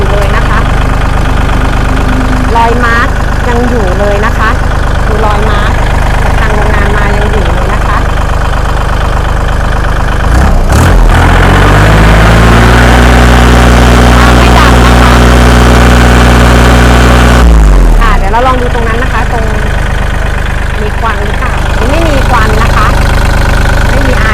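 A used 2012 Kubota L3608 DT tractor with a dozer blade idles with a steady low diesel rumble throughout, revving briefly midway, while someone talks over it.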